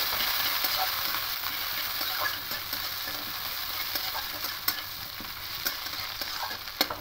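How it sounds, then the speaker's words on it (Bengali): Onions and a chilli frying in oil for a rohu fish curry, given a light stir: a constant bright hiss with a few sharp spatula taps and scrapes, close up, no speech. "আর এবার পেঁয়াজগুলো দিয়ে দেবো, দিয়ে একটু হালকা নাড়াচাড়া করে নেব।"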